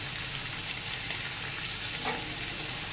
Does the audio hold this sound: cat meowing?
no